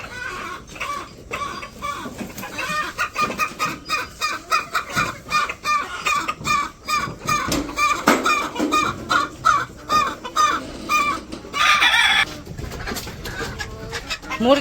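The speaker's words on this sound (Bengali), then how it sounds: "মুরগিরে খাবার দিয়ে তারপর ডিম বেচতে যাও" Village chickens cluck and squawk busily at morning feeding, a dense, close flurry of short calls with a brief crow-like cry near the end and no speech.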